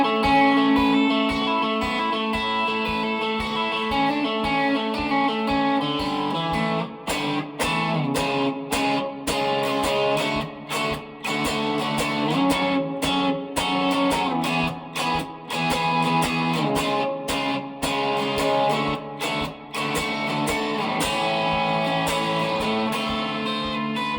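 An electric guitar with a distorted tone plays chord shapes, strummed in a steady, driving rhythm. The chords ring densely and loudly for the full stretch with brief choppy gaps, and there is no talking.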